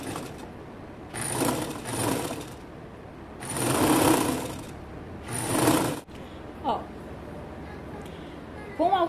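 A sewing machine runs in four close bursts, stitching a seam on a draped symmetrical blouse. Its rapid mechanical chatter stops and starts, with short pauses and a few fabric handling sounds between runs.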